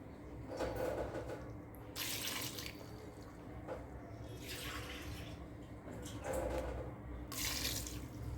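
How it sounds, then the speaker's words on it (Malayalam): Water is poured from a vessel into a pressure cooker holding dal and mutton, coming in several separate gushes with quiet pauses between them, close and moderately soft. "വെള്ളം ഒഴിച്ച് കൊടുക്കുന്നുണ്ട്"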